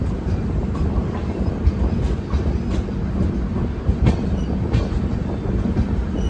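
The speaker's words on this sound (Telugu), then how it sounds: "ప్రజెంట్ మన ట్రైన్ డోన్ నుంచి స్టార్ట్ అయిపోయింది" A passenger express train rumbles steadily along the rails, with faint rhythmic clicks from the wheels over a constant low roar.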